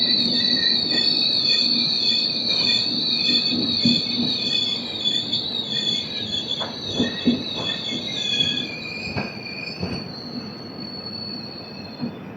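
The Secunderabad AC Superfast Express, train 12783 from Visakhapatnam, rolls onto platform 2 with sustained high-pitched wheel squeal over rumbling carriages, loud and close, with a few clanks toward the end before the squeal fades.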